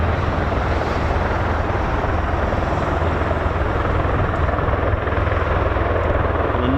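A Boeing KC-135 Stratotanker passing near an air base, heard as a loud, steady, broadband engine roar that holds without a break.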